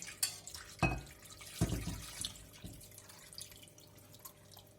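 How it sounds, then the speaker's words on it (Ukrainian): Liquid marinade is poured over fish in a container, landing in a few short splashes and drips up close, with quiet gaps between them and no voices. "Та заливаємо маринадом."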